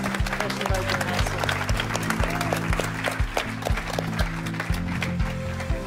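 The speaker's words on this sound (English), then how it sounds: "Now please join me in a round of resounding applause for our wonderful panelists and our special guests." Audience applause for panelists and guests at a nursing health-care panel event, a dense wash of clapping over a low, rhythmic background hum, with some voices mixed in.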